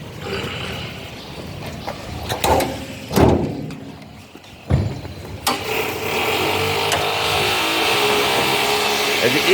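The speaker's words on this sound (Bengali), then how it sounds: "আর আমাদের ইঞ্জিন কন্ডিশনটা দেখাই।" A 2010 Toyota Axio's engine is shown for its condition. Several short loud bumps and knocks come first, then the engine settles into a steady, fairly loud running drone that holds to the end.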